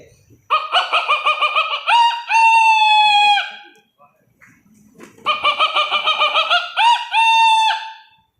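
A person's voice imitates a rooster's crowing twice, each a run of clucks rising into a long cock-a-doodle-doo, separated by a short pause.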